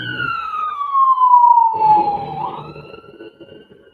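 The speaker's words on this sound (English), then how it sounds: "The siren." A police-style emergency siren wails outside, one loud descending sweep followed by a rising tone and rumbling traffic that fade away over a few seconds.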